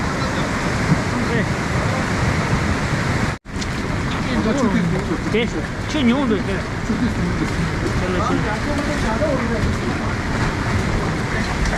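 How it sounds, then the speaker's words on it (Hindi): Dangerous floodwater rushes along a river beside the Tibetan colony in Kullu, Himachal Pradesh: a loud, continuous roar of churning water with a brief drop-out partway through, and voices speaking over it. "देखो भाई पानी पूरा खतरनाक पानी पूरा।"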